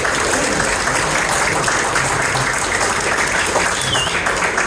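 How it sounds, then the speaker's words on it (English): Corporate dinner audience giving a big round of applause as Ronnie joins a mentalist on stage, dense and loud clapping held steady for several seconds, with faint voices mixed in. "Give Ronnie a big round of applause, ladies and gentlemen,"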